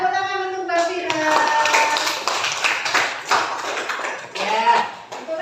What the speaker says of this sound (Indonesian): Tepuk tangan untuk Mas Damar.